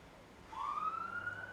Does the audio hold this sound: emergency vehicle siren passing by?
yes